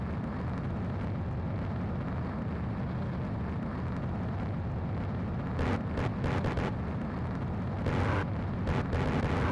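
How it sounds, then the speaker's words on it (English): Missile launches and explosions in the Ace Combat 7 combat flight video game, a steady loud roaring rumble with a few sharper bursts near the end, no talking. "Strider 1, missile launched."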